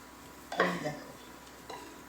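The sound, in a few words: meat being stirred and sautéed with spices in a pan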